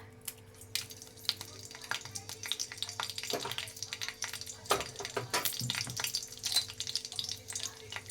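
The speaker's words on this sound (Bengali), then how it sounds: "কড়াইতে তেল দিয়ে নিয়েছি এবার আমি ফোড়নে দেব শুকনো লঙ্কা" Dried red chillies are tempered in hot oil in a kadai. A quiet, crackling sizzle is heard with scattered spatter pops and clicks of stirring, rising slightly in the middle.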